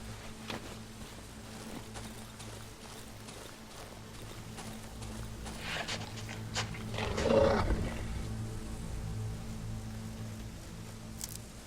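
A wolf in the survival horror game Darkwood gives a low rumbling growl that swells for a moment midway, set against a steady, murky game ambience.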